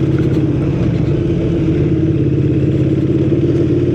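A motorcycle engine, either a Yamaha MT-09 or a KTM Super Duke, rumbles loud and close at a steady idle with an even throbbing pulse and no talk.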